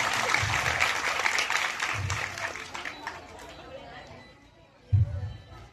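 Audience applause at a school Republic Day celebration, a broad wash of clapping mixed with crowd chatter that fades toward the end, with a few low thumps.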